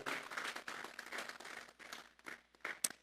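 A church congregation claps together as an offering of applause during a Spanish-language sermon, a moderately distant burst of rapid scattered hand claps lasting a few seconds.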